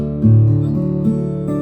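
Guitar strings in open tuning ring out in low, sustained tones, with a couple of notes plucked and left to resonate. Nobody talks.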